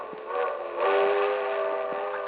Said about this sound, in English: A train. If I can make that train.